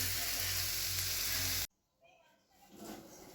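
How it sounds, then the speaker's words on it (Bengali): Bitter gourd pieces fry in a pan with a loud, steady broadband sizzle that cuts off abruptly midway, followed by quieter kitchen noise. "উচ্ছেগুলো ভাজা করে নিচ্ছি আগে"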